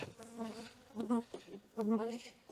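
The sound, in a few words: bees buzzing during beehive inspection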